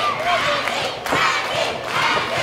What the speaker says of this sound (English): The crowd starts chanting Andy, and Rocky's not liking it.